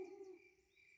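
A cartoon owl gives a single short hoot, a soft clear tone that glides down and settles, faint and brief with no speech over it.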